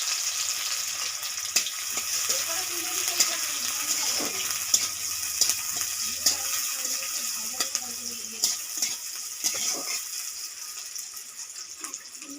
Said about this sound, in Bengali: কড়াইয়ে পরিমাণ মতো সরষের তেল দিয়ে দিয়েছি, কালো জিরে ফোড়ন দিয়ে দিচ্ছি, পেঁয়াজ কুচানো দিয়ে দিচ্ছি